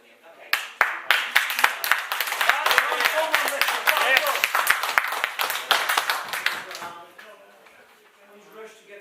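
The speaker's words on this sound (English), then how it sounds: "He's rushed to get a clap" A council meeting chamber fills with a burst of clapping from many hands, quickly building into brisk applause that fades out after several seconds, leaving faint room noise.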